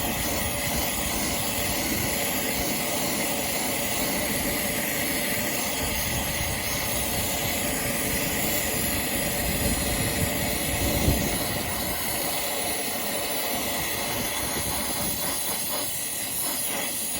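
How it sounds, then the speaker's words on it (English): A torch steadily heats copper pipe for soldering on a heat pump job, giving a continuous hiss and roar at an even level throughout, close and unbroken, with no voices. "Keep it moving, otherwise you'll melt the pipe."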